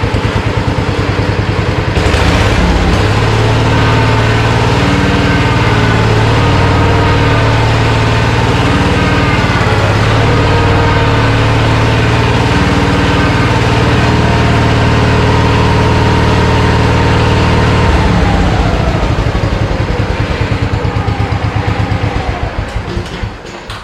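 A Simplicity 7114 hydro garden tractor engine idles steadily and loudly close by, a constant low throb that holds for about twenty seconds before cutting off near the end.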